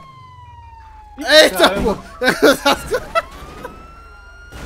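A police car siren wails in the video game GTA 5 as the pitch sweeps down and rises again, heard under excited shouting voices that cut in over it partway through.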